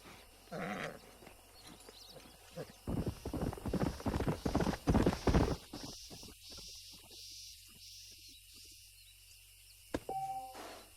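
Horse hooves clip-clop in Red Dead Redemption, a rapid run of hoofbeats building and then fading over several seconds, with game ambience and a sharp click near the end.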